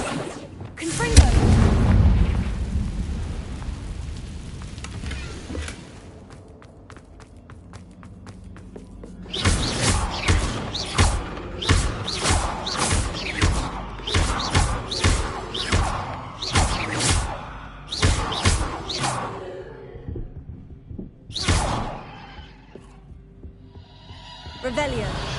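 Confringo and Bombardus spell blasts in the Hogwarts Legacy video game, a loud booming burst followed by a rapid run of sharp, punchy impacts and whooshes, with talk between them.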